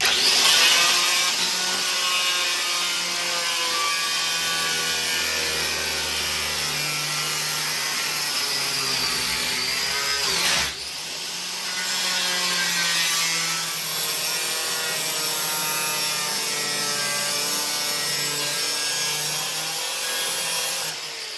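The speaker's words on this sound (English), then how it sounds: "I'm going to cut the top edge and also the bottom edge here" Power cutting tool grinding through a rusty window channel edge on a 1969 Pontiac GTO Judge, a loud continuous whining rasp held for about twenty seconds with one brief dip midway; no talking.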